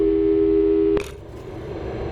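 A telephone tone in the video game Portal 2: a steady electronic tone holds for about a second, then cuts off with a click, leaving a low background hum.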